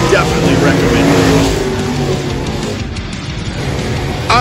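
Race cars racing at Sycamore Speedway make a loud, continuous engine roar that swells and fades slightly as they pass, with the racket of the track filling the whole stretch.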